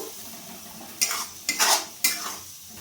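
Onion and masala stir-fried in a pan for masala chicken: three sharp scraping clatters of a spoon against the pan, close and fairly loud, over a faint low background with no talk.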